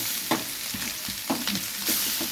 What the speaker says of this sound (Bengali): এটাকে ভেজে আবার ভাজাটা তুলে রাখবো